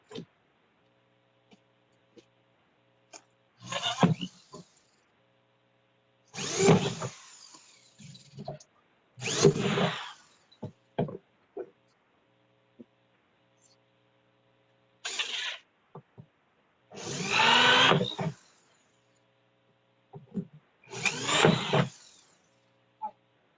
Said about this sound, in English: it's just like a bit like that we're gonna be using to drill the holes